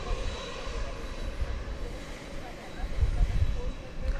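A jet departs DFW Airport at night, its engine roar a steady, distant rumble that swells slightly toward the end while someone talks over it.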